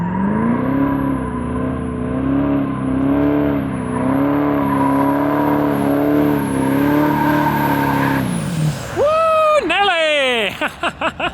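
A Duramax diesel truck engine holds a strong, wavering high-rev drone for about eight seconds, then drops into sharp sweeping bursts and revs, loud and close, with voices likely mixed in around it.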